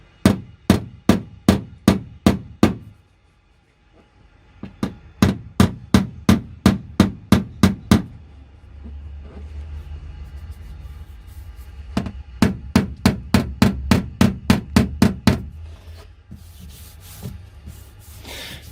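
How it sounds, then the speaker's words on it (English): Rapid, rhythmic rubbing strokes come in two long runs separated by a quieter stretch, hand sanding a car's front wing bodywork up close. "I'll give that a little bit more sanding. Just rough that up a little bit more."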